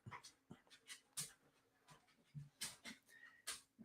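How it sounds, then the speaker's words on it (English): A dog indoors whimpers and pants in soft, uneven bursts of breathy sniffs and whines, close but quiet, with no talking. "My dog came in, check up on me, make sure I'm alive."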